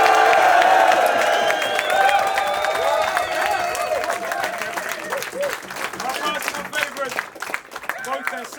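A live crowd at a Don't Flop battle rap title match applauds and cheers for two MCs, dense clapping loud at first and slowly thinning, with whoops and a voice calling out over it.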